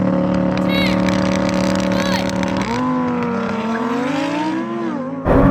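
A Lamborghini Performante, a 700 hp Nissan GT-R and a Porsche Cayenne Turbo GT launch together in a drag race, engines roaring loudly and rising through gear changes, with a sudden loud rush of wind at the end.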